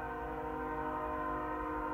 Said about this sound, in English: With a train whistle in the distance